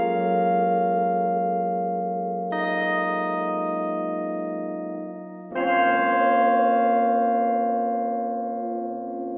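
A bright, pitched-up electric piano with fast delay plays three sustained chords in turn, each ringing with a shimmering, echoing tail. No voices.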